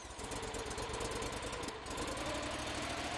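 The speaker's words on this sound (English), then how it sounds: "Activate the choke and turn the key to start the engine." A Proforce blower's engine runs at a steady, dense idle with a throbbing, slightly knocking beat, holding the same level throughout apart from a brief dip in the middle.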